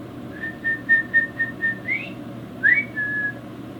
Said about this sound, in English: And when I whistled,